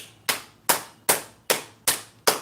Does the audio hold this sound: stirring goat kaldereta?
no